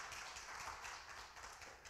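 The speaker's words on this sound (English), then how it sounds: "Give the Lord a hand clap of praise for our little ones there" A church congregation applauds during a Resurrection Sunday service, a steady wash of hand claps sustained throughout, moderately loud and filling the room, with no voices standing out.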